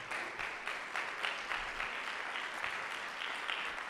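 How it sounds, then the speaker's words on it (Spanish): Church congregation applauding during a sermon, an even wash of many hands clapping at moderate distance, sustained and fairly soft without pauses. "le pueden dar un aplauso grande al Señor"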